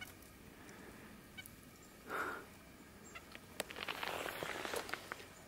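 Birds calling at a nature interpretation centre, fowl-like clucks and short chirps, faint and scattered over quiet background noise, with one brief louder call near the middle.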